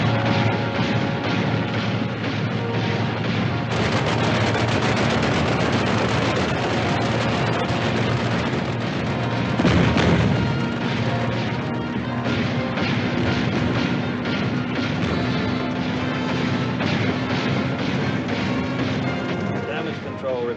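Heavy naval guns of a warship in a 1956 battle film fire as a dense, continuous roar of blasts and rumbling, with a sharper crash near the middle and voices mixed into the din.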